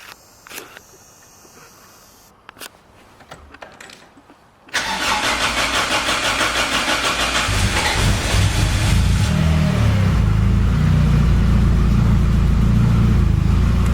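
A Toyota AE86 with a freshly installed engine cranks briefly after a few quiet clicks, then catches and settles into a loud, steady idle that swells as it runs on, close up with no talk.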